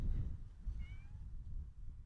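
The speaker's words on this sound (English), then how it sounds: "Here's my cat, PETA." A pet cat gives a single faint meow indoors, soft and brief, over a low background rumble with no talking.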